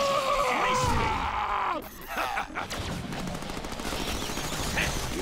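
Rapid gunfire in the Deadpool video game, a loud dense burst of shots followed by continued firing, with shouting voices mixed in.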